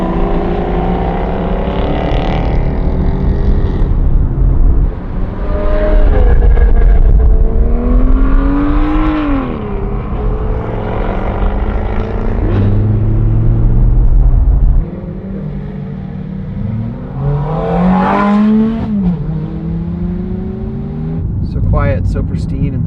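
A Porsche Taycan accelerates along the Million Dollar Highway, with a loud, steady cabin rumble and whining tones that rise and fall, while voices murmur underneath.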